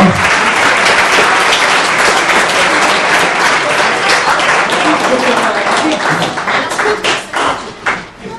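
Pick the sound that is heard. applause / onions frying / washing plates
applause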